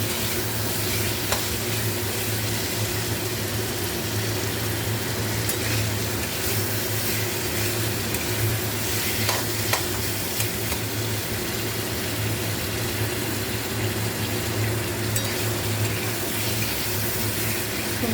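A spice masala frying in a pan sizzles steadily and loudly throughout, with continuous stirring and scraping and an occasional faint clink of the utensil, no voices.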